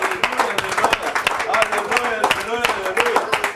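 Church congregation applauding and cheering together, a dense wash of clapping with raised voices and shouts layered on top, steady and close throughout.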